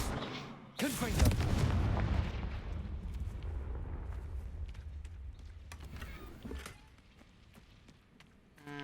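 A Confringo blasting spell in Hogwarts Legacy lands with a loud, booming explosion, its heavy rumble decaying over several seconds beneath faint game effects and scattered clicks.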